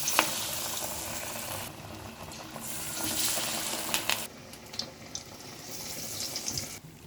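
Parappu vada patties dropped into hot oil, fizzing and sizzling steadily at close range with broadband crackle, brief louder bursts as each piece goes in, and no voices.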